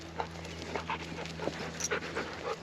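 A dog pants and sniffs close by, smelling other dogs' scent, quick soft breaths and snuffles repeating over a steady low background hum.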